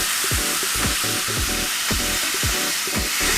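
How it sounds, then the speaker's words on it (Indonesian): Lamb frying fat side down in hot oil over medium-high heat, a bright continuous sizzle with a steady crackle throughout, alongside a rhythmic thumping beat. "Itu adalah suara yang kita cari, sizzling noises."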